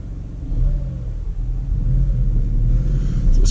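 A Škoda Fabia's engine revs up and holds a rising, rumbling drone, loud and close, with no voices over it.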